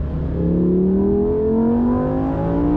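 A Lamborghini Huracan Sterrato accelerates hard on a track straight, its engine note rising steadily through the revs, loud and close from inside the car.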